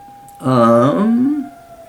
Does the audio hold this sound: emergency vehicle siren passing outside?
yes